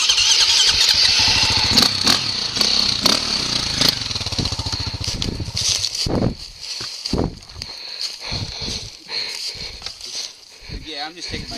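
A motorcycle engine starts and revs on a muddy forest trail, loud and close in a bursting, uneven rhythm that settles and fades after several seconds, with people talking over it.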